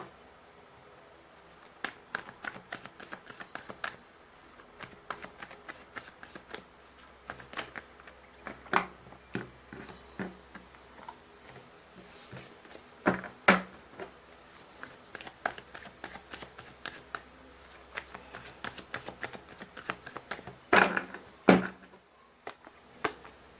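Oracle tarot cards shuffled for a love reading, a long series of soft papery flicks and taps at an uneven pace, fairly close and quiet, with a few louder snaps near the end.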